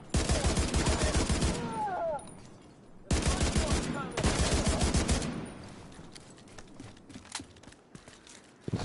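Bursts of automatic gunfire in The Division 2 on PS5, loud and close. Dense rattling volleys alternate with short pauses, and scattered sharper shots trail off at the end.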